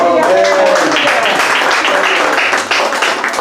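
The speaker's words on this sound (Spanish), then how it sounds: "Den un aplauso al Señor" Spanish-speaking church congregation applauding the Lord after a hymn, loud dense clapping right after a sung note fades, with voices mixed in beneath the steady applause.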